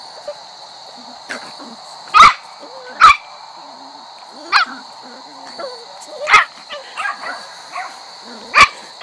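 Puppies bark and yip in sharp, high bursts, several spaced sharp barks over a steady background hum, with softer whimpers in between.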